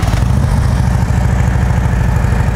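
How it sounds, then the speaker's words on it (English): A Harley-Davidson Ultra Classic FLHTCU with a 96-cubic-inch six-speed engine and Vance and Hines exhaust idles up close, giving a steady, loping low rumble with even pulses and no talking. "Got a 96 inch motor with a 6-speed. Vance and Hines exhaust sounds real good on it."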